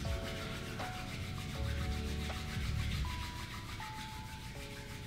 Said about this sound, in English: we're going to rub the hands together to create some fire